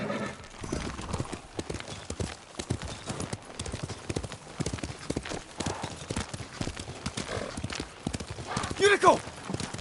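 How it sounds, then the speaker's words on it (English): Yuriko's horse in Ghost of Tsushima: steady clip-clopping hooves throughout, with a whinny near the end, while voices talk over the game sound. "Yuriko's horse"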